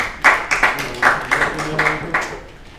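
Meeting attendees at a general council meeting give a short round of applause, a handful of uneven claps from a few people close by, fading out within about three seconds.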